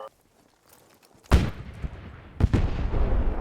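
Maxim machine gun fire in the Squad 44 video game, heard as two loud, booming bursts about a second apart, each trailing into rumbling noise after a quiet lead-in.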